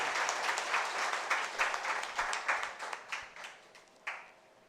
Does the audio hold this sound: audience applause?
yes